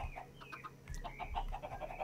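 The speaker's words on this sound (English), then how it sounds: "We got some chickens to test to see if all of the eggs go in here." Blocky chickens cluck repeatedly in the video game Minecraft, a steady run of short, close clucks over a low background hum, with no talking.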